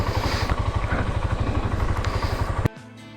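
A Honda TMX 125 motorcycle engine drones steadily while riding, a close, even, pulsing putter under rushing wind that cuts off abruptly near the end.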